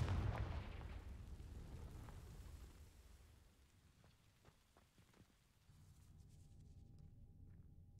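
A fiery spell blast in the Hogwarts Legacy video game, cast on dry vines: a loud, deep burst at the start that rumbles and crackles as it fades, followed by faint crackling and a low ambient hum.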